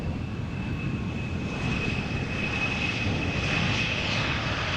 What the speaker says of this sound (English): this is the Embraer arriving from Nuremberg